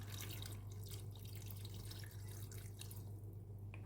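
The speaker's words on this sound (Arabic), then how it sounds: "ورح كمل كمان مي عاديه" Water streams from a tap into a pot on a home kitchen stove, a steady faint splashing pour that runs continuously at a low level, with no talking.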